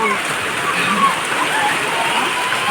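Rain falls steadily outdoors, a dense continuous patter and hiss on surfaces, loud and even throughout, with people talking over it.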